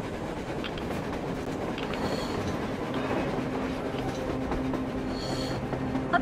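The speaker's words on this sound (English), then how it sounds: "A train! A damn train on the surface!" A train moves on the surface in the video game Metro Exodus, a steady close rumble with rhythmic clickety-clack of wheels and faint squeals, heard alone without voices.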